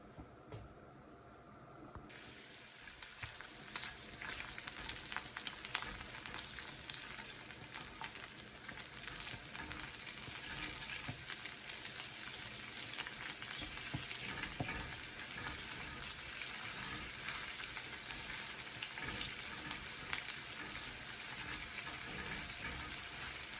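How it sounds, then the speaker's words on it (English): Potatoes simmering in a pot for a triple cheese potato broccoli sausage soup, giving a steady close bubbling and sizzling wash that runs unbroken with no voices. "our potatoes have been simmering"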